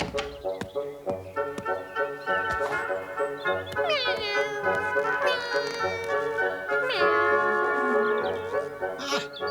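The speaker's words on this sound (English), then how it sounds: "What's wrong with you, cat?" A cartoon cat meows repeatedly in drawn-out, rising and falling cries, loud and close, layered over a busy animated-film music score.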